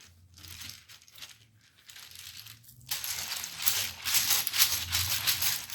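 Tarot cards are shuffled close to the microphone, with soft separate riffles at first and then a denser, louder run of crisp rattling and flicking.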